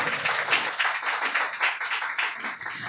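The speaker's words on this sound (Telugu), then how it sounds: "గట్టిగా చప్పట్లు కొట్టు." Church congregation at a Telugu Christian sermon clapping hard in unison, a dense, steady run of rhythmic handclaps filling the space with no talking over it.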